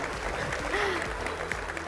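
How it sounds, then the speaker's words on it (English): Brief applause from a forum audience at a festival opening forum, steady clapping under a low room rumble, with a voice briefly heard partway through. "Let's give them a big round of applause"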